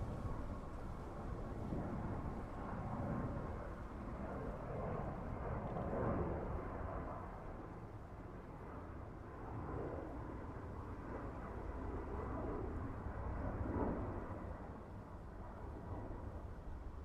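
A British Airways Airbus A320 at Dublin Airport gives off a steady, low, broad engine rumble that swells and fades slightly over time, heard from a distance outdoors without talk.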